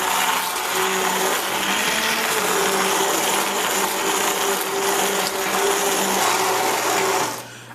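A blender purees cooked guava for jam, a loud, steady motor whir with a thick grinding texture, running continuously before winding down at the end.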